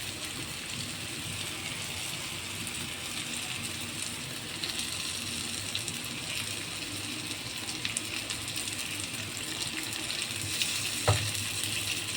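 Egg frying in separated oil with masala in a pan, a continuous even sizzle heard close and steady throughout, with a faint clink near the end.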